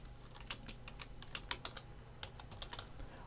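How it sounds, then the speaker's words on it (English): Rapid clicking keystrokes on a computer keyboard, an irregular run of sharp taps with a few louder presses, fairly close and quiet, with no voices. "I don't know if I can type this on one line"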